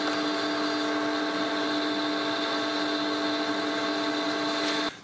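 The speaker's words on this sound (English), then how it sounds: "I'm going to open up a little bit with a boring bar anyway" A lathe boring bar opens up a hole for a #3 Morse taper milling arbor, giving a steady, sustained tonal whine with even harmonics that holds throughout and cuts off abruptly at the end.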